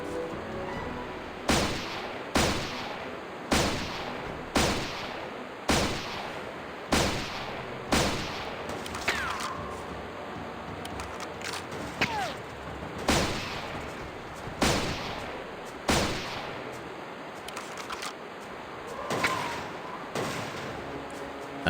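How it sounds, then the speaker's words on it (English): Gunfire in the game Turok Evolution, a series of loud, evenly spaced heavy shots with echoing tails, later breaking into more irregular blasts. "Who's shooting?"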